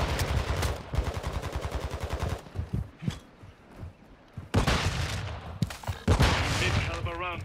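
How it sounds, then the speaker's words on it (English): Big caliber gunfire in the video game Call of Duty: Modern Warfare II, heard as loud, rapid automatic bursts up close, pausing and then returning in heavy volleys mixed with other game sounds. "Big caliber rounds."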